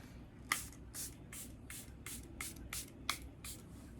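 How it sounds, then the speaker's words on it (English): A handheld bottle of Charlotte Tilbury Airbrush Flawless Setting Spray mists onto a face in repeated short bursts, about nine quick sprays in a loose rhythm, close and crisp against a quiet background. "I use spray like 3 or 4 sprays"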